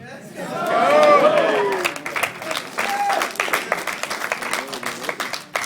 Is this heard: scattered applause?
yes